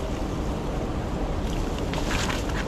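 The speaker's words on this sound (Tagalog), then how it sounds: "malakas po yung lagaslas ng tubig dito" Loud, steady rushing water at a river fishing spot where tilapia are netted, a dense continuous roar close by with no talk, brightening slightly toward the end.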